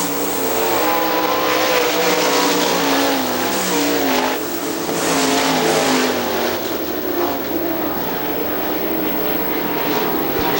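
Sprint cars race around the Hartford Speedway Park oval, a loud, continuous roar of several engines at racing speed with pitch sweeping as the field passes, steady throughout without speech.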